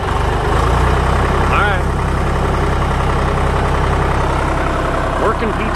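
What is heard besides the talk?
John Deere 1520 tractor running PTO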